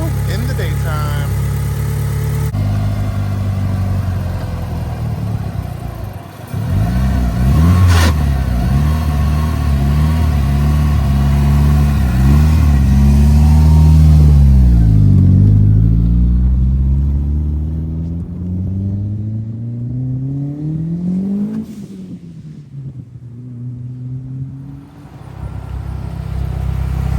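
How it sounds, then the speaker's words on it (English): A 1990 Mitsubishi Eclipse GSX engine warming up, idling with a steady rumble, then revved up and down in a few rising and falling sweeps before settling back, loud and close. "we're gonna let her warm up, give her a couple of revs"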